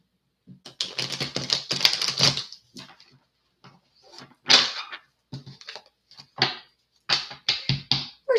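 A deck of tarot cards being shuffled during a card reading, heard as bursts of dry papery flicks and riffles, with one long run of shuffling followed by shorter separate bursts and pauses, close up.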